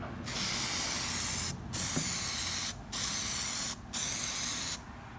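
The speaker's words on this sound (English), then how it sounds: "we're going to get it, clean it up a little bit, and then start Plastidipping it" Plasti Dip rubber coating sprayed from an aerosol can onto a car headlight or taillight, in four steady hissing bursts of about a second each with brief pauses between them, close and loud.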